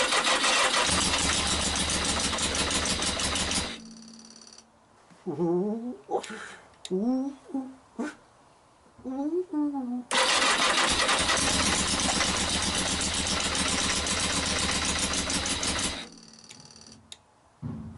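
Yamaha XJ900S motorcycle engine firing on only one cylinder, loud rough running bursts broken by a gap of short irregular sputters and a person talking, then the engine catches again for several seconds.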